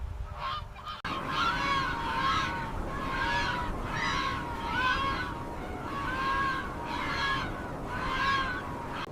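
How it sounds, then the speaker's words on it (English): A large flock of barnacle geese honks on open grassy wintering grounds, a dense chorus of overlapping calls rising and falling in waves throughout, moderately distant. "Under a clear sky, hundreds of geese gather across the vast wintering grounds."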